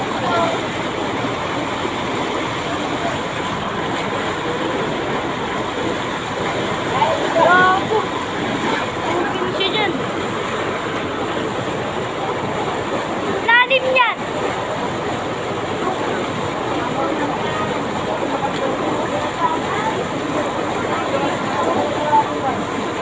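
Loud, continuous rush of water gushing from a pipe struck by a backhoe, roaring without pause, with brief mechanical clanks and muffled voices underneath.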